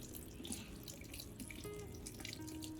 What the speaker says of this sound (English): rinse the plant's base thoroughly under running water